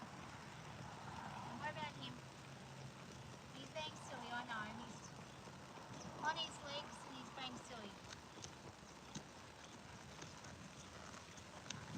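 A horse cantering outdoors on a windy day, its hooves clip-clopping in a steady rolling rhythm, faint and partly buried under gusting wind noise.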